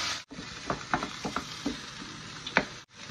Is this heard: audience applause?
no